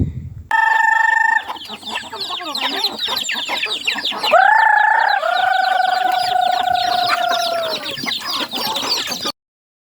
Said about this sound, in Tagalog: Uunahin muna namin yung mga manok kasi mukhang gutom na sila.